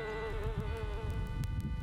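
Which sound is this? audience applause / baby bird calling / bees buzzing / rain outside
bees buzzing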